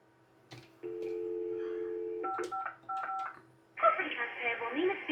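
An INITECH phone system gives a steady tone, then a quick series of dialing beeps, followed by a buzzing tone, all close and clear.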